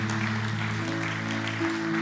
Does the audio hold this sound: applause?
yes